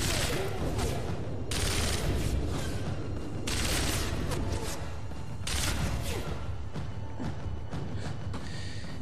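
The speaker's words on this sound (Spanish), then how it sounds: "Disparan y no sabes de dónde" Gunfire in Sniper Elite V2, dense and constant volleys of shots with heavier booming bursts every couple of seconds, loud and filling the scene with a chaotic battle din.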